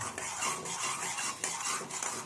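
A spoon stirs a yogurt and spice mixture in a pan for a Kathiyawadi green onion curry, producing a continuous scraping swish with soft clinks of metal on metal, close and steady, with no talk.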